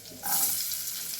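Chopped garlic is stirred in hot oil in a pan, a close hiss that swells suddenly after a quiet start and holds steady.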